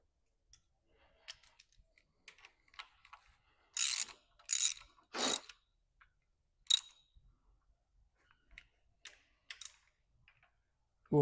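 A hand ratchet tightens 9/16 bolts on a John Deere 4230 synchro range transmission, giving several close bursts of rapid clicking with small metallic taps and handling noises between them.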